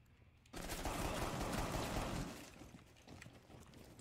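Loud, dense gunfire in a ranked online shooter match erupts as a rapid burst lasting about two seconds, then falls back to quieter game sounds.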